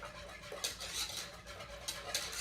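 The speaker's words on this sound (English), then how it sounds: "So now I'm going to just whisk this together" A whisk stirs lemon toddy ingredients in a bowl, giving faint, quick scraping and clinking strokes in uneven bursts. It stays quiet and close, with no voices.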